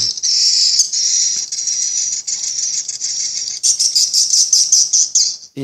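Swiftlet roosting call played through a Piro MW 88 amplifier: a continuous, loud stream of high, buzzing chirps and rattling twitters, pulsing faster toward the end, with no talk.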